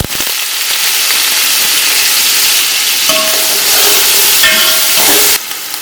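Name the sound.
spices and ginger garlic paste sizzling while frying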